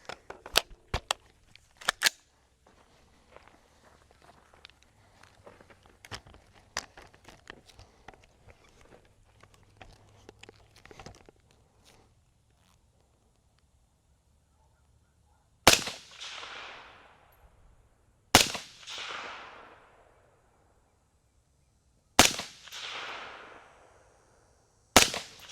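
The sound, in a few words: gunshots from rifle with LPVO scope at steel and paper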